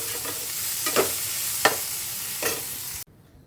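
Potatoes frying in a pan with onion and chilli, a continuous close sizzle with several short stirring scrapes, cutting off abruptly near the end.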